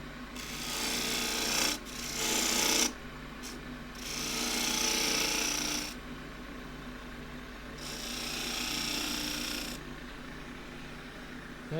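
Green elm pot turning on a wood lathe with the gouge rounding the bottom, producing several loud rasping cuts lasting a second or two each over a steady low motor hum, close by.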